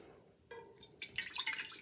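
Quiet drips and small splashes of water in a pot while making vin cotto from grape juice, a brief near patter that grows busier after a silent start.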